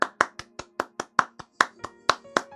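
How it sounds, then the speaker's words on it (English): A single person claps rapidly and steadily, around fourteen close, crisp hand claps in an even rhythm with no talking, sharp and distinct against a near-silent background. "I applaud myself."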